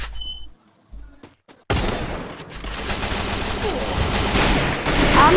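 Rapid bursts of gunfire in a Free Fire video game match, loud and dense, starting abruptly after a few quiet seconds of faint sounds and continuing as sustained automatic fire.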